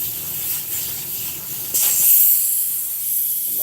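An airbrush is run out after use, giving a steady, close hiss of spraying air that grows a little louder partway through and continues without pause.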